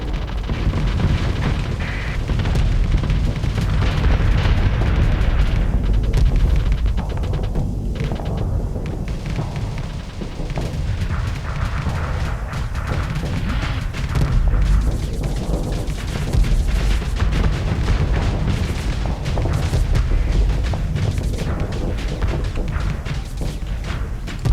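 Rocket bomber strikes in the space game Starsector, a long relentless rumble of heavy booming explosions and crashing impacts layered one over another, loud and sustained throughout without speech.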